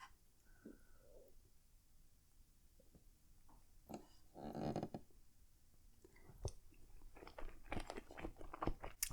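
Close-up chewing of a shrimp dumpling with chili oil during a dim sum meal, with soft wet mouth sounds, a few bites and squelches building into denser crunchy chewing toward the end, quiet and intimate.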